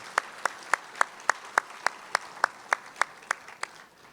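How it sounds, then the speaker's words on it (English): Applause at the Polk County All Sports Awards and Hall of Fame ceremony, heard as a steady run of about a dozen sharp, evenly spaced claps over a faint crowd bed. "Let's give them all a big round of applause joining us this evening"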